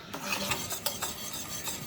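A spoon briskly stirs a besan and water batter in a bowl for Gujarati chutney, a short burst of soft, rapid scraping and swishing strokes heard up close.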